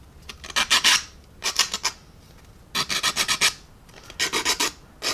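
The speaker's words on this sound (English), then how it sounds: "Now what I'm going to do then is come in with my sanding stick." A medium-grit sanding stick rasps against a resin 1/72 scale JA-37 Viggen model part in quick bursts of short strokes, close up, with brief pauses between each group of rubs.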